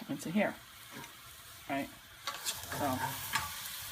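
Thai green curry chicken is stirred around in a pan, with a quiet sizzle and scraping strokes under intermittent talking.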